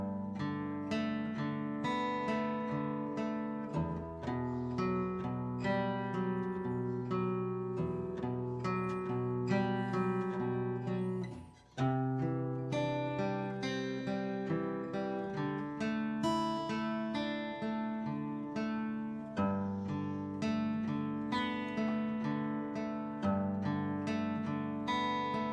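An acoustic guitar plays an acoustic arrangement at a slow pace, with steady plucked notes and chords ringing out continuously, close and clear with no talking.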